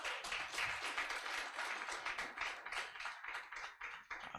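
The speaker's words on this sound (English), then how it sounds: "Please clap for him." An audience at an NBA lecture claps for a guest, a dense, steady patter of many hands, moderately loud and continuous.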